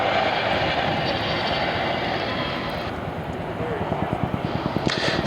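RAF Chinook twin-rotor helicopter at a flying display, a loud, continuous engine roar with rhythmic rotor thudding that grows more pronounced toward the end, under a commentator's voice.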